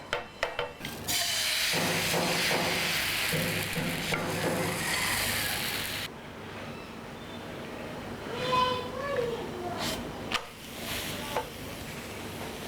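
Dadar gulung crepes fry in coconut oil in a pan with a loud, steady sizzle, then softer crackling, spatula scrapes and knocks as the cooking continues.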